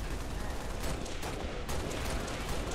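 Faint, continuous gunfire in Halo: Reach, a dense rattle of shots heard from a distance as steady background noise, with no clear pauses and no talk.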